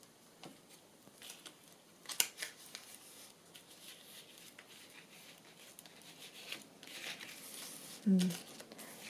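Scissors cutting a thumb notch into a paper journal make soft snips and crinkling paper rustles, close and fairly quiet, ending in a louder crunch near the end.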